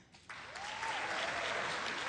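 A crowd claps at a Hannah Gadsby stand-up comedy show, the applause bursting in abruptly after a brief quiet moment and then holding as a dense, steady, fairly loud wash of many hands for the rest of the stretch.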